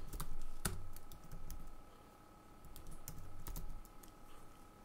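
Someone types on a computer keyboard in short bursts of quick, light key clicks with brief pauses between words, close and fairly quiet.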